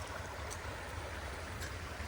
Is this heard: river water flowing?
yes